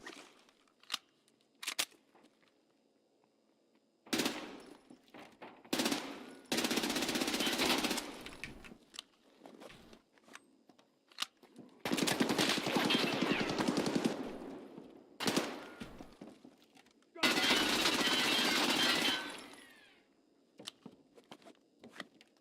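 Gunfire in the video game Escape from Tarkov: several long, loud bursts of automatic fire interleaved with scattered single shots and clicks, separated by near-silent gaps.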